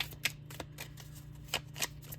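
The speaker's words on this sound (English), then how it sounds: "they're so easy to shuffle that whenever I shuffle them, like, cards don't come out" A deck of tarot cards being shuffled, with soft riffling bursts and sharper snaps coming in irregular clusters at close range over a quiet, humming room.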